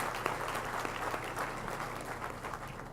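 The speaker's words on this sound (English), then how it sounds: "Give a round of applause to all of them." People at a building dedication for a university health sciences center give a round of applause, a dense, continuous clapping from a sizable crowd that holds steady throughout with a slight fade near the close.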